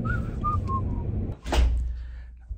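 A person whistles a few short, separate tones, fairly close and alone, followed by a duller knock or thump near the end.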